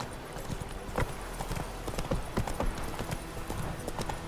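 Roach the horse trots in The Witcher 3, hooves striking in a quick, fairly regular clip-clop pattern that sounds close and continuous throughout, with a faint whinny-like hint and no clear speech.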